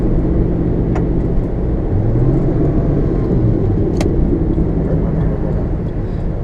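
A Porsche GT sports car drives past behind a loud, steady low engine rumble that swells slightly in the middle, heard outdoors with no talk over it.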